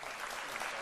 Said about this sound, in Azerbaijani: Xırdalana bir dənə alqışlar